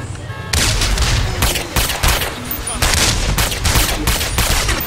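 Sustained automatic gunfire in GTA San Andreas, loud and dense, with rapid overlapping shots and bursts running continuously after a brief quieter start.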